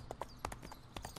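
Horse hooves clip-clopping in the Hunting Unlimited 2010 video game, a short run of quick, crisp hoof strikes in an uneven trotting rhythm, fairly quiet and close.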